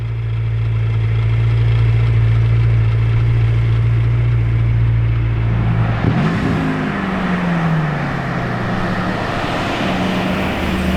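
A Lamborghini Urus test mule rumbles loudly nearby on a street, its steady low engine note shifting midway into a rising, revving pass.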